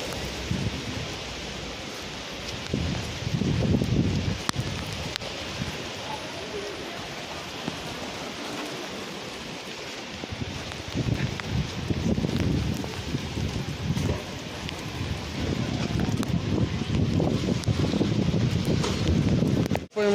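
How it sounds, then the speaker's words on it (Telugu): Windy rainstorm in Dubai: steady rain hisses on surfaces while strong gusts buffet the microphone in rumbling surges, loud and continuous with no talking. "దుబాయ్లో వర్షం పడితే ఇట్లా ఉంటుంది"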